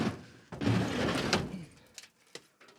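A door on an old Mazda van opening in the Australian outback: a scraping slide, then a few short knocks and clicks, close and fairly quiet.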